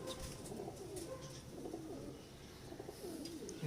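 Pet pigeons of the missay kabootar breed cooing close by in a loft, soft repeated throaty coos with faint chirps and rustling around them, and no talking.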